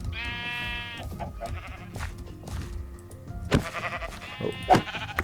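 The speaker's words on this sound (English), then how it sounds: "Ooh, sheep." Sheep bleating in a video game: several wavering bleats, a long one at the start and more later, at moderate level over a steady ambient background.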